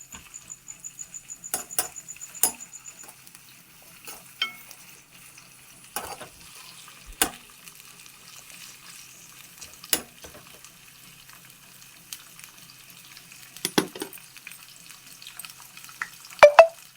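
Guta punugulu batter frying in hot oil gives sparse, sharp crackles and pops scattered over near silence, with a few louder bursts toward the end and no voices.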